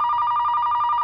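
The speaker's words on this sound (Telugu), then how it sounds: "అమ్మా, ఆ ఫోన్ చూడు, నీకే చెప్పేది" Steady electronic telephone ring with a bright warbling tone, close and loud, running continuously through the short moment with no speech over it.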